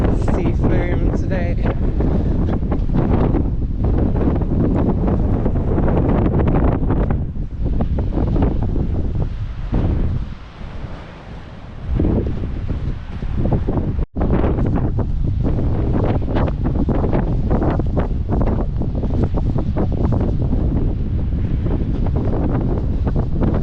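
Strong, steady wind buffets the microphone by the sea, with surf and waves churning underneath; the roar holds loud and constant, easing briefly midway before surging back.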